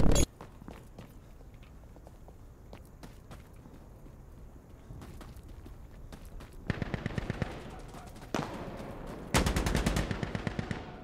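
Gunfire in the video game Insurgency Sandstorm: scattered single shots early, then two rapid automatic bursts later on, loud and sharp over quieter footstep-like shuffling, with no talking.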